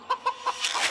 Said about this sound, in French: il y a plein de poules là-dedans